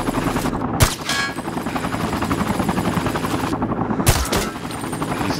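A helicopter in Sniper Ghost Warrior 3 drones with a loud, continuous rotor thump close by, punctuated by two sharp bursts of gunfire cutting through the engine noise.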